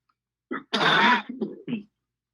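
Someone nearby clears their throat loudly and harshly, with a few short coughs before and after.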